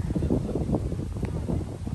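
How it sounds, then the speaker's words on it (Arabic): Wind blowing across an open natural spot in springtime, a steady rough low rumble buffeting the microphone throughout, fairly loud and continuous with no clear talk. "الريح راه تسمعوا الريح"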